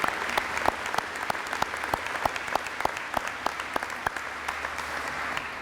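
A crowd at a graduation ceremony applauds steadily, with many hands clapping in a dense, even patter that stays loud throughout.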